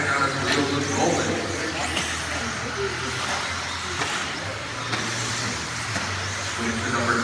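A stock buggy races down the back straight of a dirt track, its engine giving a steady, continuous roar that stays at an even loudness from start to finish.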